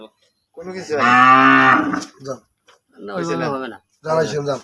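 A cow moos loudly, a long drawn-out low call, followed by two shorter moos, close by.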